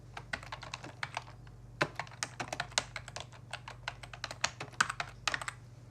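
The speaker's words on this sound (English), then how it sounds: "I'm now using the keyboard to copy that address." Computer keyboard typed on close up, a quick, irregular run of crisp keystrokes with brief pauses, alone and quiet in a still room.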